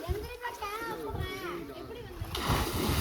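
A person jumps into outdoor swimming water among rocks, and a loud, close splash erupts near the end after excited chatter from young people.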